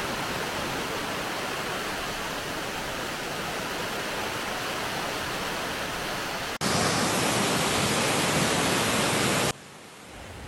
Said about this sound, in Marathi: तर हा बघा, हा असा माझ्या पाठीमागे हा असा धबधबा तुम्ही बघू.